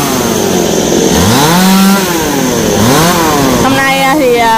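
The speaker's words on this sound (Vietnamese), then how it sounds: "Rồi cây xoài và cây sao cũng cưa bỏ luôn." A chainsaw cutting down mango and star trees, its engine whining loud and close throughout, pitch rising and falling as the throttle changes and the blade bites into wood, with a voice underneath.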